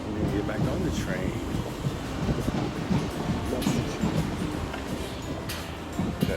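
A train arriving at a station in Barcelona, a steady rumbling roar with wind buffeting the microphone and a brief squeal partway through, continuous and close throughout.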